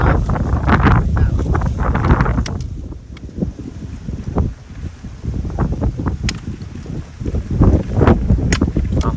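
Dry wind gusts across an outdoor forest setting, a loud, steady rushing roar buffeting the microphone, with stronger bursts near the start and end.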